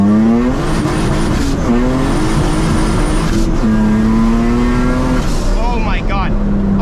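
Cabin view of a 600 HP turbocharged V6 Honda Civic accelerating hard: a loud, continuous engine roar climbs in pitch, drops at shifts, then climbs again, with a final rapid rev flutter near the end.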